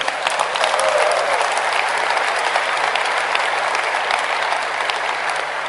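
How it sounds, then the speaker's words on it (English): An audience applauds at a Nokia Lumia 800 presentation, a dense, steady wash of clapping from a large crowd that fills the whole stretch, with a faint low hum beneath. "You got to give me some applause on this."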